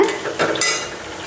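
Grated coconut roasting in a pan for a Kerala-style erissery, with short scraping stirs and a light dry sizzle, close and brief, no talking.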